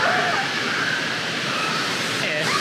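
Rushing water pours down a waterfall cascade at a swimming hole, a steady close broadband roar filling the whole moment without talk.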